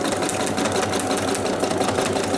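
A sewing machine quilts a fabric journal cover, running steadily at high speed with a dense, continuous mechanical whir, close and unbroken.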